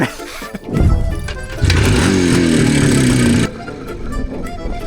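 A Jupiter motorcycle engine, tuned to a sport setting, roars loudly and steadily with revving that rises then drops off abruptly, following a brief sputtering start.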